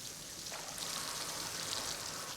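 A waterfall in a pretend jungle game gives off steady, soft, broadband rushing water that stays even throughout, faint and continuous with no voices.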